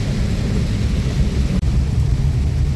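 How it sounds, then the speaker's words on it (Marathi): Heavy monsoon rain pours down on a street in Kalas, a loud dense continuous roar of rainfall with a low rumbling undertone and no talk. "इतक्या पावसात सुद्धा"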